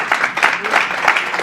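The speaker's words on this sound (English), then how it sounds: "Everybody give Josh a round of applause." A tech meetup audience applauding a speaker, a short burst of scattered clapping at moderate loudness lasting about a second and a half.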